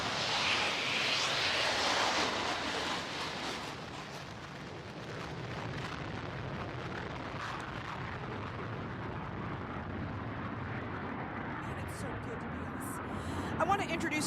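Hornet fighter jets take off at the 2025 NAS Oceana Air Show, a loud, continuous broadband jet roar that peaks early and then slowly fades to a steady, more distant rumble.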